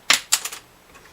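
A plastic guitar saddle is dropped onto a hard surface and bounces, giving a sharp first click followed by several quicker, fading ticks, close and alone.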